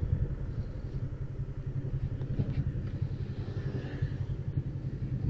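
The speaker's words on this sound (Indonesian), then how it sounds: "Waduh, rombongan mobil, motor, truk." A steady, pulsing engine drone of nearby road traffic, a convoy of cars, motorcycles and trucks, with motorcycles and cars passing close.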